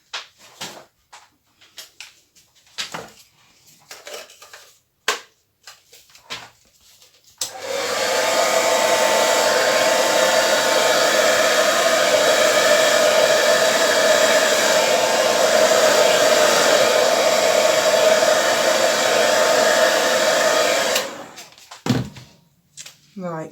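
Hair dryer blowing across wet acrylic paint on a turquoise variegated base, a loud steady roaring whoosh lasting about thirteen seconds, preceded and followed by scattered knocks and handling clicks with a voice speaking between them.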